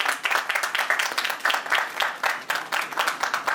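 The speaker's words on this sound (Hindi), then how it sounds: "तालियां बजती रहनी चाहिए।" An audience at a song launch event claps steadily and continuously, a dense, close wash of applause lasting throughout with no pauses.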